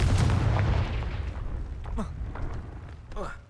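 A Confringo fire spell bursts in Hogwarts Legacy, a loud booming blast at the start that fades into rumble, followed by a couple of sharper magical crackles; a person talks during the clip.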